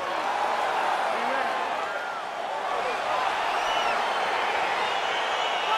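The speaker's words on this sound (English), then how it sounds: "crowd getting excited as this fight gets underway" Virtual arena crowd in the UFC 4 fighting game as a bout begins, a dense, steady wash of cheering and excited voices, loud and sustained without pause.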